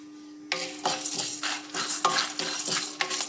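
Chana dal, red chillies and curry leaves roast in a pan on low heat for podi dosa powder, with repeated spatula scrapes and clinks over a light sizzle.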